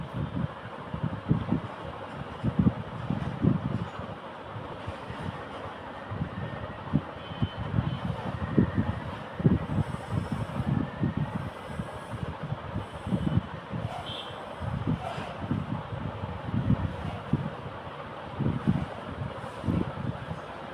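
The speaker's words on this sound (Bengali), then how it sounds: "এই যে আমি এখন সঠিক পাশটা এভাবে আগে একটা সেলাই করে নিব, তারপর ভাঁজ করে ভিতরের দিকে সেলাই করে দিব" A sewing machine stitching kurti fabric gives a continuous low, rumbling whir with rapid irregular pulses that carries on steadily at moderate volume for about twenty seconds.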